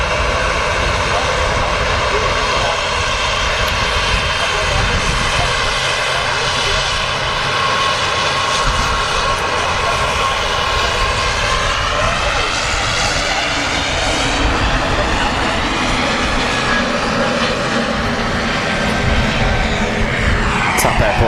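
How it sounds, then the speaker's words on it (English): A TAP A320neo airliner departs Manchester Airport, its engine roar loud and continuous, holding steady and then slowly shifting in pitch as the jet climbs away. "Tap Airport A320neo just departing there"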